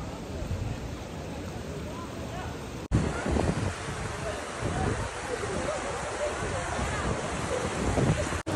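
Waterfall at Al Baha, Saudi Arabia, a constant broadband rushing roar with wind buffeting the microphone; it cuts briefly and resumes louder, with voices faintly present.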